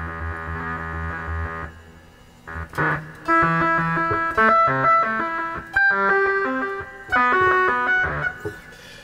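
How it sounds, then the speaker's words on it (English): Guitar fed through a synthesizer sample-and-hold effect in the lower range produces stepped, jumping tones that switch abruptly in pitch, choppy bursts with short gaps, loud and electronic without any voices. "in the lower range, again, we get more of that sample and hold sort of a sound"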